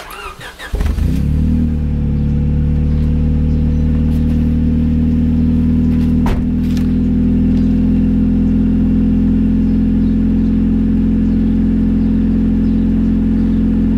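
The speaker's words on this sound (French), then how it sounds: "on va aller démarrer, on va voir ce que ça donne avec l'intermédiaire d'origine" A Honda Civic EK4 with an F1-series engine and its original intermediate exhaust pipe cranks and fires, then settles into a loud, steady idle that holds for the rest of the clip, with a brief blip partway through.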